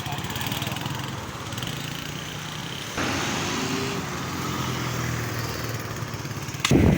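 Honda CD70 motorcycle with a converted clutchless gearbox idling in gear, a steady buzzing single-cylinder putter up close, a brief clank near the middle and a sharp knock at the end.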